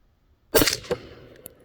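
A 300 Blackout rifle firing subsonic ammunition: one sharp, close, suppressed-sounding crack followed by a short mechanical clack and faint metallic clicks as the action cycles, in quiet surroundings.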